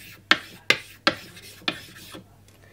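A Japanese natural sharpening stone is rubbed to raise polishing mud, giving four sharp, close scraping strokes in an even rhythm that then trail off into quiet.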